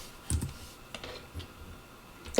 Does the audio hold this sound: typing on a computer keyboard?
yes